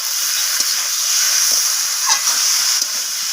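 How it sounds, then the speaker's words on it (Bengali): Green chillies and spices fry in a pan for a Bengali soybean and cauliflower curry, giving a steady, close sizzling hiss. Faint stirring taps sound now and then. "তো আমি আবারও সব কিছু ভালো করে কষিয়ে নিচ্ছি।"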